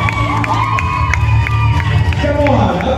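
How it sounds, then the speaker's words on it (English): A loud, sustained crowd roar with shouting and whooping fills the hall of a women-in-film awards show at the Kenya National Theatre, cheering a winner for a few seconds. "Round of applause for Justin Obudu."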